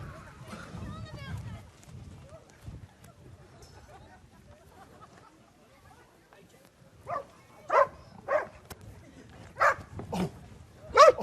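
Search dogs let loose in the Frisian village of Holwert give a series of sharp barks, growing louder and closer, after a stretch of quiet shuffling and low voices in the background.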